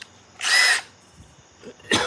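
A 12-volt brushless cordless drill spins up in two short bursts, a longer whirring run followed by a brief second trigger pull, close and loud with quiet pauses between.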